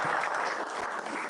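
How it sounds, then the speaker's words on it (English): Audience at a construction industry conference on modern offsite methods applauds steadily, a dense wash of many hands filling the room without pause. "Round of applause to Ryan."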